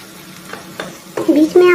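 Okra and onions cooking over low heat in a pan, with soft stirring scrapes that grow into louder sizzling and frying pops, building in intensity toward the end.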